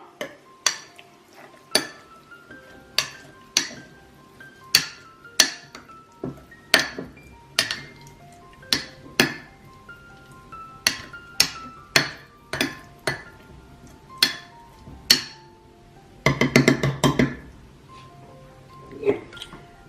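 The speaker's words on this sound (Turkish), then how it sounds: "Kaşıkla biraz dibine doğru bastıracağım." A spoon presses dried tomatoes down into a glass jar, producing a string of sharp, close clinks and taps of metal on glass at an irregular rhythm, with a brief scraping flurry near the end.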